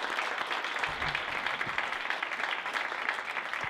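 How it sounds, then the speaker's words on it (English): A seated audience at an Urban Land Institute panel applauds the panelists, a dense, even wash of many hands clapping that holds steadily throughout without anyone speaking. "can we give a round of applause to our panelists?"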